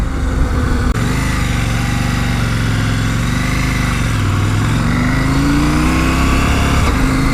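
KTM 790 Adventure R twin-cylinder motorcycle engine running smoothly in third gear, a steady close drone whose pitch rises and falls gently with throttle throughout.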